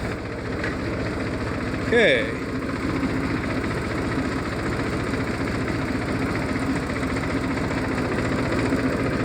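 A small tractor engine idles steadily with a constant low rumbling throb throughout, and a brief spoken word near the start.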